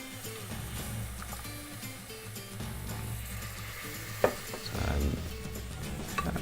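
Milk whisked slowly into a roux for a Southwestern mac and cheese sauce, a steady sizzle and stirring with a sharp clink near the middle and a brief louder bubbling surge after it, close up and without talk.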